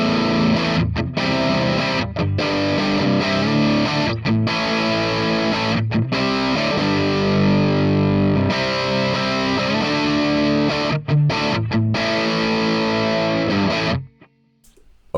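Distorted electric guitar played through a speaker cabinet, miked toward the edge of the cone, chugging riffs loud and steady with brief gaps, ending abruptly near the close.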